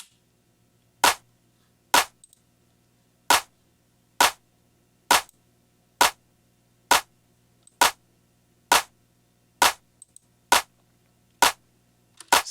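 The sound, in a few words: house track clap drum without transient master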